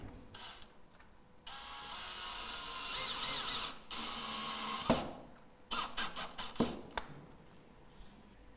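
A power driver screws roof window flashing into pre-drilled holes on a profile tile roof, with a sustained whirring run, a pause, then short bursts and clicks, close by.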